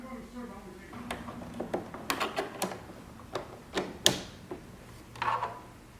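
A sewing machine's walking foot rises and falls with the needle as it is lowered, giving quiet, irregular mechanical clicks and clacks near the machine while someone talks.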